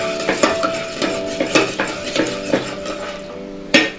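A spoon stirs vegetables and tomato in a pressure cooker for veg biryani, making repeated close metallic scrapes and clinks against the pot in an uneven rhythm, with a sharper knock near the end.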